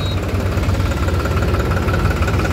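A New Holland tractor engine, model 3600 or 3230, runs steadily close by with a loud, throbbing diesel rhythm and constant low vibration throughout.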